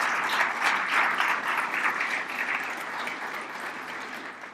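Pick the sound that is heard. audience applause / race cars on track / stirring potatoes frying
audience applause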